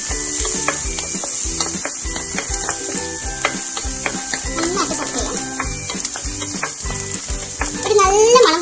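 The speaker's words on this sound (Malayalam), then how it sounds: "അതിലേക്ക് നമ്മൾ മിക്സ് ചെയ്ത് വെച്ച വെളുത്തുള്ളി ഇടുക. നന്നായിട്ട് സോട്ട് ചെയ്യുക." Garlic sautéing in a large cube of salted butter for a beef dish gives a steady, close sizzle, with frequent light clicks and scrapes from stirring throughout and a brief louder flare of frying near the end.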